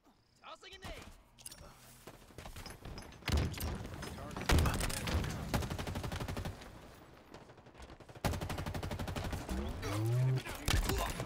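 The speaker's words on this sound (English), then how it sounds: "Tossing a nade." Halo Infinite Capture the Flag match on the Behemoth map, with bursts of gunfire and a grenade blast among heavy weapon fire, thuds and game effects; automated announcer voice speaks over the action.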